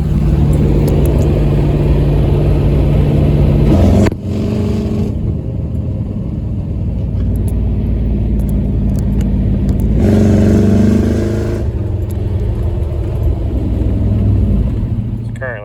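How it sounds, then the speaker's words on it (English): A 1963 Pontiac Star Chief V8 with a new 3.23 rear gear, driven through a residential neighborhood: a loud, steady engine rumble with a brief dip partway through and a rise in revs later, a voice talking over it at times. "just going to run it down the neighborhood, get the intake nice warm, doing maybe 1 or 2 good pulls"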